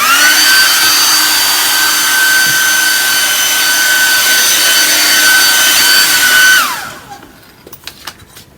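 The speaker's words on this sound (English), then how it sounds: "Maybe I'll run the hairdryer over it." A hair dryer drying acrylic paint blows with a steady, loud whirring roar and high whine, then switches off and winds down, leaving faint clicks and quiet.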